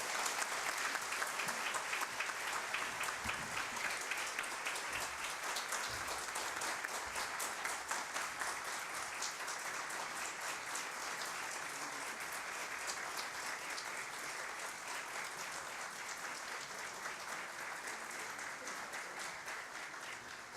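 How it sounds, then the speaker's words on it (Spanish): Audience at a book presentation applauding steadily for about twenty seconds, a dense, sustained clapping that fades only slightly toward the end, with no voices over it. "pedir a todos ustedes un fuerte aplauso para él"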